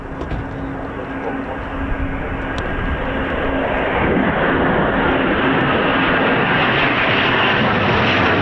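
A Eurofighter Typhoon FGR4 jet takes off at an RAF station, a broad roaring engine rumble that swells steadily louder and stays loud throughout.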